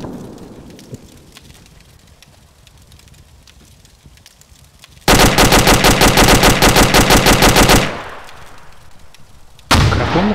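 In ArmA 2 with the ACE mod, a fort's heavy guns hammer out a long, loud burst of rapid automatic fire that cuts off abruptly, then a second burst starts at the end, after a quieter stretch of distant field noise.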